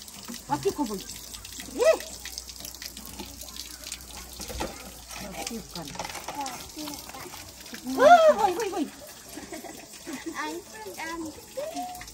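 Water runs and splashes at a mountain spring where residents collect their water, a steady trickle with louder gushes, while people talk nearby.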